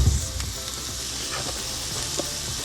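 Green chili stew with cumin, pepper, garlic and onion sizzles steadily in a pot while a spoon stirs it, producing soft scraping clicks over a constant close hiss.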